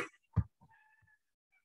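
A cat meows a couple of times at close range, a brief louder cry followed by softer, tonal mewing that fades out in a quiet room.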